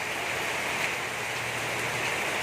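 Steady, continuous rain in the Philippines, a dense, even hiss that holds without pause and sounds close and fairly loud, with no voices.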